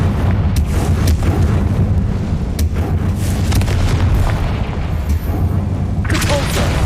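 Loud, dense explosive boom from a Confringo blasting spell in Hogwarts Legacy on PlayStation 5, a continuous rumbling roar with sharp bursts layered over game sound, while a voice speaks.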